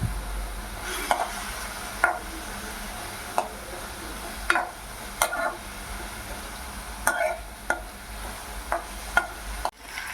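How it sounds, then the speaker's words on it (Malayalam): Chopped tomato sautéed in a pan with a soft, steady sizzle, broken by repeated sharp scrapes and clinks of a spoon stirring against the metal. "ഒരു തക്കാളി കട്ട് ചെയ്തത് കൂടി ചേർത്ത് വഴറ്റിയെടുക്കാം."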